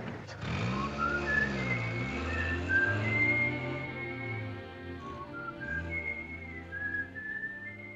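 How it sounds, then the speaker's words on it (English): A person whistles a melodic tune in a 1940s wartime drama, the bright wavering notes gliding up and down continuously and clearly over a low sustained musical backing. "Is it all right now if I whistle together?"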